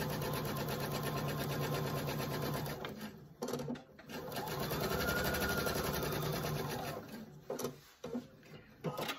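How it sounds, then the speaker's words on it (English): A sewing machine runs a steady, close whirring stitch along a tote bag seam, pauses briefly, then resumes before stopping with a few soft handling knocks and clicks; no one speaks. "I'm going to sew over that seam again anyway, so I don't really think it matters to back stitch"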